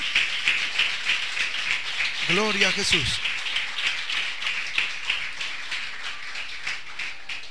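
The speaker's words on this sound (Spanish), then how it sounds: "den una ofrenda de aplauso al Señor" A church congregation claps throughout a Spanish-language worship service, offering applause to the Lord, with a steady patter of hands under a voice speaking and a brief sung or shouted phrase partway through.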